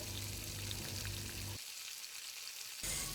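Whole garam masala, cardamom pods, black peppercorns, cinnamon pieces and halved bay leaves, fry in hot oil, giving a close, continuous sizzle with a brief quieter gap before the crackling resumes.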